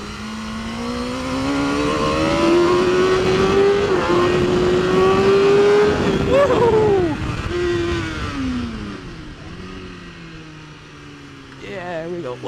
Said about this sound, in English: You really get to hear the bike when it's all muffled down.